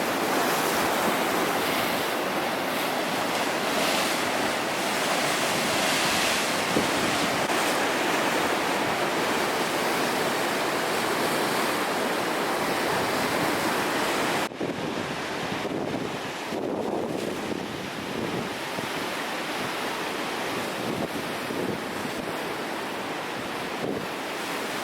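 Ocean waves wash onto an Argentine beach in a continuous, loud roar of surf mixed with wind buffeting the microphone, steady for the whole stretch with no talking.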